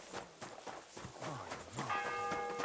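Horse hooves clip-clop at a slow walk in Kingdom Come: Deliverance II, a run of soft, evenly spaced thuds alongside a low, ringing tone, with no one talking.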